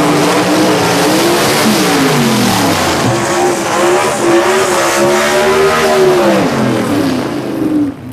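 Gasser drag race car at a Southeast Gassers event in London, Kentucky, revving hard in the lane, loud and continuous with rising and falling engine pitch throughout, no talking.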